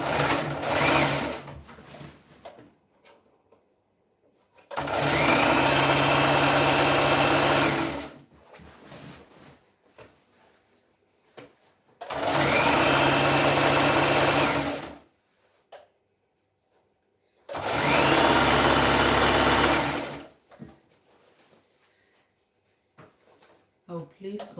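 A sewing machine runs in three separate bursts of about three seconds each, a loud, steady whirring stitch with quiet handling noises and pauses between runs.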